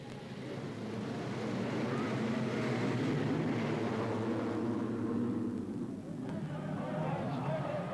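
500cc Grand Prix motorcycles pack up for the second start of the 1984 Austrian Grand Prix, a dense, loud, continuous engine roar from many bikes with a commentator talking over it.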